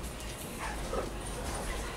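Dogs in the background give soft yips and whimpers over a steady low hum, fairly faint and continuous throughout.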